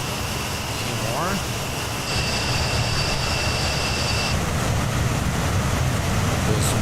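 Avro Vulcan jet engines in Microsoft Flight Simulator give a steady, loud, broadband roar with a sustained high whine through part of the stretch, continuous throughout.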